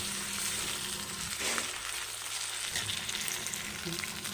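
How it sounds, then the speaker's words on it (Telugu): Ginger garlic paste frying with onions in a pan gives a continuous loud hissing sizzle, with a brief stir-scrape partway through; no talking. "అల్లం వెల్లుల్లి పేస్ట్తో చక్కగా వేగిందండి"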